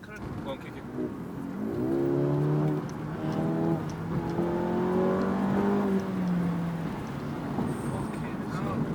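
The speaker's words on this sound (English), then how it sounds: "Is it turbo making that noise?" A £250K 750 bhp urban-build Mercedes G63 AMG revs up through rising engine notes with turbo noise, loud and sustained, while people talk over it.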